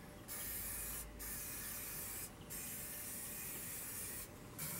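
Spray coating the inside of the smokestack on an offset reverse-flow BBQ smoker, a steady loud aerosol hiss running almost continuously with three brief pauses between bursts.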